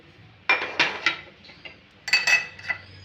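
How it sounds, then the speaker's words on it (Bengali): A spoon mixing sour yogurt and a little sugar in a bowl, two short bursts of clinking and scraping strokes, close and clear against a quiet background. "এবারে এটাকে আমি ভালো করে ঘেটে নেবো একসাথে মিশিয়ে নেবো সবগুলো"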